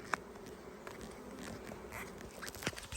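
Honey bees at an apiary hive during a first inspection, a steady close insect buzz with a few individual bees flying past near the listener, continuous throughout with faint rustling underneath.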